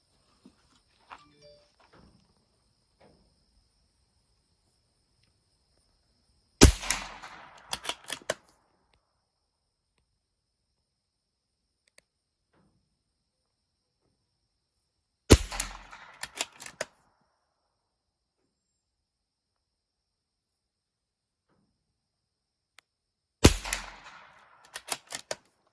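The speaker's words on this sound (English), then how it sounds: "he's gonna shoot the upper right corner target" A CZ 457 Jaguar .22LR bolt-action rifle fires at an outdoor range, three sharp reports spaced several seconds apart, each followed by quick clattering bolt-cycling clicks, with near silence between.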